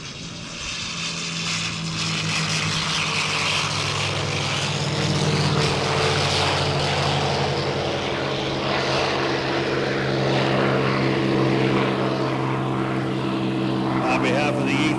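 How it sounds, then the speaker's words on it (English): Tuskegee Airmen Red Tail P-51 Mustang flying past at an air show in Geneseo, a loud sustained propeller-engine roar that swells toward the middle and holds, with a crowd and announcer audible underneath. "Bring the Tuskegee Airmen P-51 Mustang to Geneseo."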